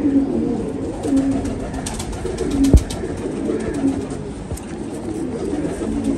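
Pigeons cooing during breeding season, soft repeated low coos over a steady background hum, with a sharp knock partway through and no talk.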